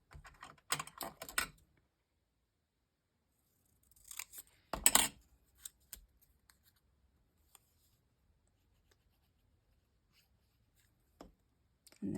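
Scissors snip through paper while pieces of a music-note shape are cut for a 5x7 nine-patch star quilt block card, a few close bursts of short cuts separated by long quiet gaps.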